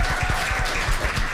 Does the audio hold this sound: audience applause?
yes